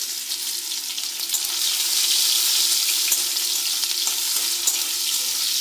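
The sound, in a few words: chopped onions frying in pan with dried chillies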